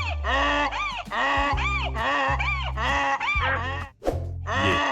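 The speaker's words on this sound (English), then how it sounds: "It's a donkey." A donkey brays loudly and close by in a continuous, repeated honking hee-haw with rhythmic rising and falling cries and only a brief break near the end.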